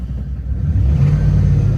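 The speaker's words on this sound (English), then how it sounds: "That motor's making some noise." A car engine rumbles close by with a low, steady drone that swells slightly as it revs, a motor making some noise, heard alone.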